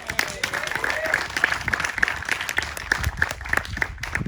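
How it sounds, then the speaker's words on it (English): Audience applause at a reopening celebration for the renovated and expanded Sunol visitor center, steady crowd clapping lasting several seconds with scattered voices mixed in. "let's have a hand of applause for everybody who's here"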